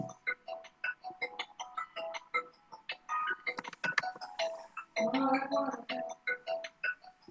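A phone ringtone plays a repeating melody of short, chiming electronic notes in a regular, bouncy rhythm. It is fairly faint, and a denser stretch of notes comes near the end.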